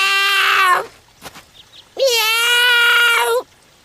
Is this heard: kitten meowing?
yes